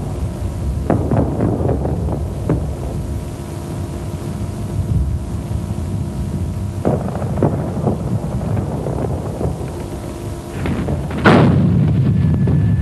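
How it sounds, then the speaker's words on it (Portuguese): Shells of TNT from artillery strike a target in wartime, heard as several dull, rumbling impacts spread over time with one heavier blast near the end, under steady wind noise. "A câmara estava a filmar quando o objetivo foi atingido por granadas de TNT."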